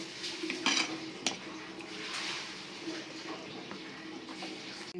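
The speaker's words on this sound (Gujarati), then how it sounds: "પ્લેટની અંદર સર્વ કરીશું" Cooked green turmeric curry, made in ghee, is served onto a plate with a metal spoon, producing soft scraping and several close, bright clinks against the dish.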